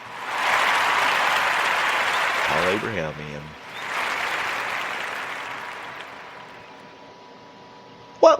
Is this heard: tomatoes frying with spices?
no